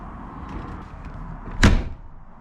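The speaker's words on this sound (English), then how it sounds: "The door closes." An RV entry door swings shut with a single loud, sharp thud against a low, steady background hum, a brief rattle trailing after the impact.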